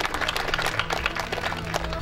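Applause from the crowd at a gateball and ground golf tournament awards ceremony, a dense, fairly loud patter of clapping over a low background hum, lasting the whole moment.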